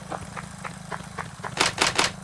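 Keyboard keys pressed in a PC game session, several light rhythmic clicks followed by three louder, sharper presses near the end, over a steady low hum.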